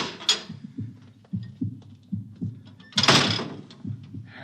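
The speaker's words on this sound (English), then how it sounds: "I'll open the bulkhead." In an old radio drama, a bulkhead door opens with a heavy whooshing hiss under a steady, throbbing, pulsing mechanical hum that beats evenly throughout.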